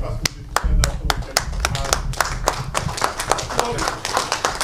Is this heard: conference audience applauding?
yes